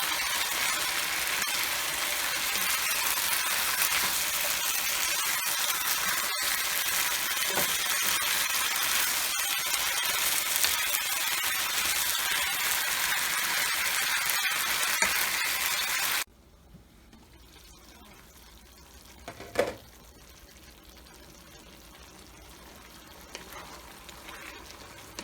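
Carrots frying in a pan for Jamaican-style chicken chop suey, a steady loud sizzle for about sixteen seconds that then drops to a quieter simmer with an occasional clink.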